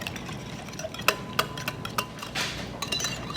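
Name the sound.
whisking sour cream enchilada sauce together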